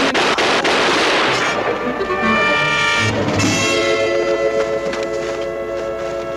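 Gunfire in a World War II combat scene, a loud dense burst of shots and rumbling blasts filling the whole stretch, with tonal hum underneath and no clear talk.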